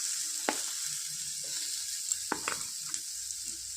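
Chopped garlic, green chili and red capsicum fry in hot oil with a steady soft sizzle, punctuated by a few light stirring clicks, close and fairly quiet with no talk.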